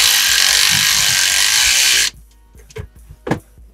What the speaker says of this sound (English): Then we're gonna secure that first clamp.